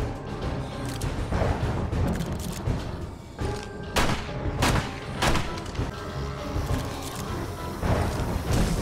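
Heavy gunfire in 7 Days to Die against zombies, several loud booming shots spaced a second or so apart over a dense, rumbling game soundscape, with mechanical clatter between them.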